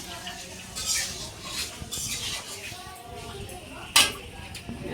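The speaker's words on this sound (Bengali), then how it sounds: "আলু মিষ্টি কুমড়া ভাজি হইতেছে" Potato and sweet pumpkin fry in a pan at a home puja, with soft sizzling, clinking of a spoon against the pot and one sharp metallic clank, under nearby chatter.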